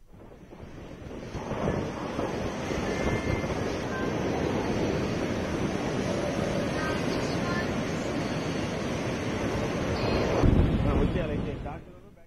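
Fierce sea waves crash on the West Godavari coast during Cyclone Phethai, a continuous heavy surf roar mixed with gusting wind that holds steady and surges near the end.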